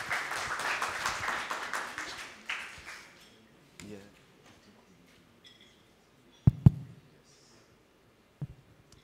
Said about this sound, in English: Let's give a one more round of applause to Ming and Riyadh.